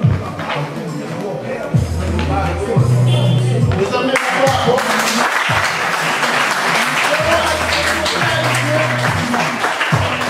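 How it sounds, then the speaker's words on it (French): Audience applause, loud and sustained, with crowd clapping and some shuffling while voices talk and call out over it. "Applaudissez, applaudissez."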